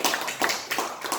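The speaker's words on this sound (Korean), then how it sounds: "애 많이 쓰신 우리 회장님께 박수 한번 쳐드리겠습니다." Scattered clapping rises in a few uneven bursts from a church gathering of elders, honouring their chairman; the claps sound moderately close and fairly light, without a full roar.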